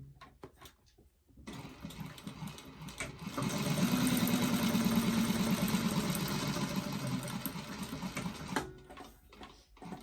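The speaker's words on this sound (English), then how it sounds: "you're sewing this onto the non-fusible side of the Peltex" A sewing machine stitches a heavy Peltex stabilizer piece onto its non-fusible side, running in a steady continuous whir for several seconds after quieter handling noise, then slowing and stopping.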